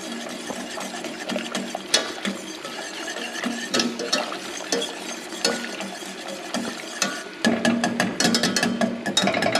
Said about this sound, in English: So I'm going to try to break it apart with my whisk and do a better job of distributing it through here.